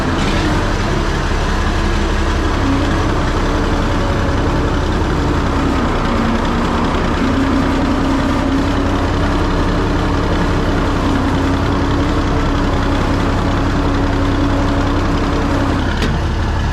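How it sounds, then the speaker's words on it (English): A heavy International Harvester 1066 tractor engine rumbles steadily and close as the tractor starts to move, a low continuous drone that holds for the whole stretch without pause or speech. "As you can see, the tractor starts to move."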